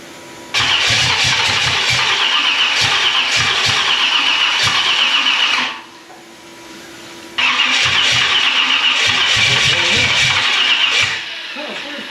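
A 1965 Chevrolet Malibu with a 383 stroker engine cranks loudly in two long rhythmic bursts of starter churning separated by a short pause, close by with a faint voice underneath.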